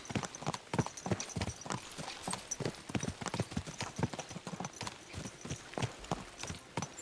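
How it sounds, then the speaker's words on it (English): Horses' hooves clip-clop in Kingdom Come Deliverance 2, a steady, fairly close rhythm of many sharp hoofbeats as the horses ride on, heard alone without talk. "Let's really spur these horses on, eh?"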